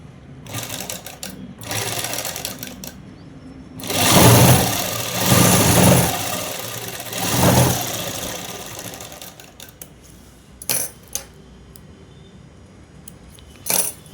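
An electric sewing machine stitches a shirt in several bursts, a close, loud, whirring mechanical hum that swells and stops between runs, followed by a few quieter clicks.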